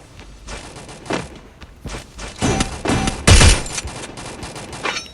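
Gunfire in Free Fire, a mobile battle royale game: bursts of rapid shots and single cracks scattered across the stretch, loudest in a heavy burst near the end of the middle, with footstep-like thumps between.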